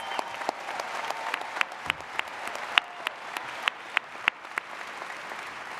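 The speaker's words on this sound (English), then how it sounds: "A round of applause to the doctoral degree recipients." A commencement crowd applauds doctoral degree recipients, steady clapping with sharper individual claps popping out over a dense wash, sustained throughout.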